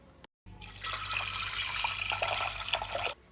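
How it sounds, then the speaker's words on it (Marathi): Water poured from a vessel onto chana dal with a little turmeric in a cooker, a steady close splashing stream lasting about two and a half seconds after a brief knock. "आता याच्यात थोडीशी हळद टाकली आहे आणि पाणी टाकते मी"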